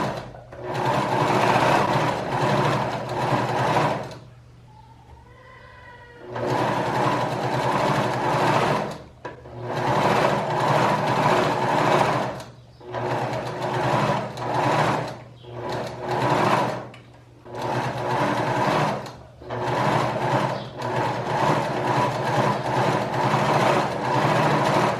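A domestic sewing machine stitches a blouse seam in long, loud continuous runs, stopping briefly between bursts with short quiet gaps, the motor whirring and needle clattering close up.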